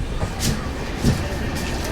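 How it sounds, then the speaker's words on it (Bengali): Sealdah–Puri Duronto Express pulling into Kharagpur Junction, a steady low rumble of the train rolling close by with brief louder thumps, people talking over it. "শিয়ালদা পুরী দুরন্ত এক্সপ্রেস এই মুহূর্তে প্রবেশ করে গেল খড়গপুর জাংশনে"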